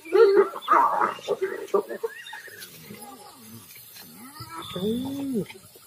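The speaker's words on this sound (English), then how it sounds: "Hyenas are ripping an impala kill apart." Hyenas squabble over an impala carcass in the African bush, giving loud yelps and whoops early, then rising and falling whooping, giggling calls that fade and swell, near and excited.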